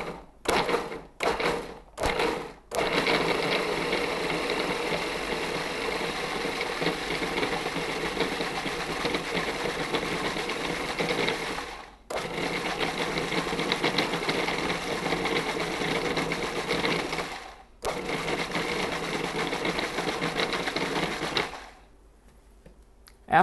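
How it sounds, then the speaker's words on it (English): A food processor pulses to grind ingredients into a fine paste, several short motor bursts at first, then long whirring runs broken by brief stops, moderately loud and alone. "So put the top on, and you're going to pulse several times till you get a fine paste."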